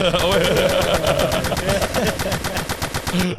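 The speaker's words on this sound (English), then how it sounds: "Gunshots." Rapid bursts of automatic gunfire, evenly spaced shots in a fast rhythm, loud and close, with a voice faintly underneath.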